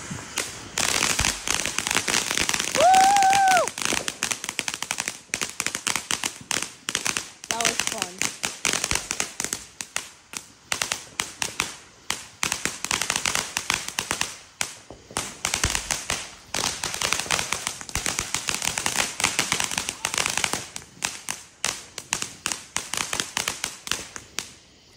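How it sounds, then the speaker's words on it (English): Rapid crackling bursts of small Independence Day fireworks popping continuously, sharp and dense, with a brief whistling tone early on. "Another firework approaches."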